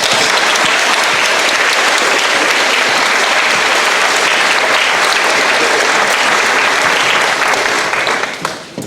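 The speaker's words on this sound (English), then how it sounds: "I think they all deserve a big round of applause." Audience at a school Christmas concert giving a big round of applause, loud, dense and sustained for several seconds before it tapers off at the end.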